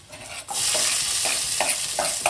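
Onions fry in a pan, browning with a sudden loud sizzle that starts after a brief quiet moment, then keeps hissing under repeated scraping stirs, with no voices.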